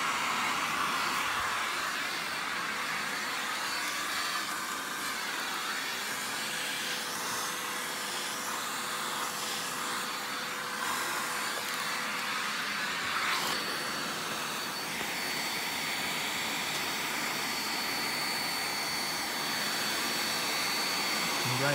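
A Tristar MG2 Tri-Lux canister vacuum cleaner running nearby, a steady loud whooshing motor roar whose pitch shifts a little partway through as it is handled.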